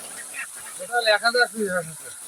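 A short burst of nasal quacking and honking from Muscovy ducks nearby on a duck farm, several calls in quick succession.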